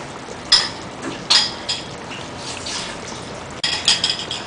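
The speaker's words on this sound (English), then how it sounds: "now we'll thicken up the nihari by adding plain flour, and we've added water to the plain flour" A flour and water mixture is poured into simmering nihari to thicken it, giving a few short liquid splashes and gushes separated by quieter stretches, close and fairly loud.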